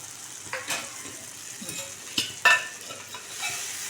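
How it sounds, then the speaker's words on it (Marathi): A spoon stirring methi matar malai in a hot pan, soft scraping and a low simmering sizzle with a few sharper knocks against the pan. "आणि 5 ते 10 मिनटं त्याला हलवायचे"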